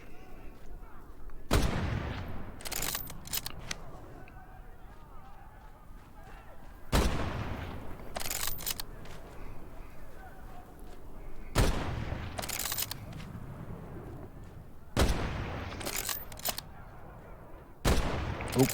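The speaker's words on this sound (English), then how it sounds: "Let's get the sniper rifle." Loud, sharp sniper rifle shots ring out in the shooter game Medal of Honor: Above and Beyond, about five widely spaced cracks, each followed by a decaying echo over steady game ambience.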